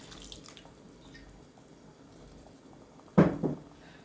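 A short splash of water poured into a cooking pot of dried fish gravy after a quiet stretch, two brief bursts close by, with a faint low background hum.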